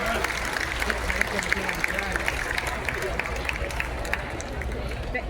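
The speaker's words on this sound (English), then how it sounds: "Give him a big round of applause." Spectators at a county fair truck and tractor pull clap and cheer in a steady patter of applause beneath crowd murmur, with a voice speaking over it.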